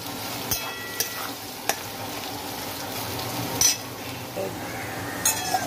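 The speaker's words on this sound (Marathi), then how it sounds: "हे बघा आपला बटाटा थोडासा फ्राय होत आलाय, अजून थोडासा फ्राय करायचा" Potato pieces frying in a pan give a steady sizzle, with occasional sharp clinks and scrapes of a utensil stirring against the pan, fairly close and without speech.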